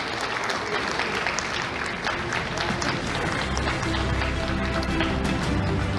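A big round of applause for award winners at an engineering innovation prize presentation fills the hall, dense loud crowd clapping sustained throughout, with a low rumble building toward the end.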